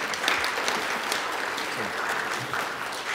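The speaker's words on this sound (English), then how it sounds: "I think we can give them another round of applause." A church congregation at an Ash Wednesday service claps in warm, sustained applause, a dense mass of many hands filling the room evenly from start to finish.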